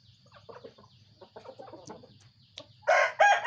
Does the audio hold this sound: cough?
no